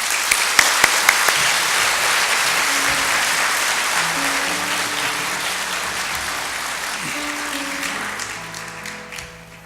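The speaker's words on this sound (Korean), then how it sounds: "뜨거운 박수로 격려해 주시기 바랍니다" A congregation at a church ordination ceremony for a pastor gives warm applause, with dense, sustained clapping that fades gradually toward the end while faint tones sound beneath it.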